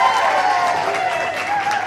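Brief applause from an audience at an International Women's Day event in Leicester, a dense crowd of clapping heard steadily for a couple of seconds.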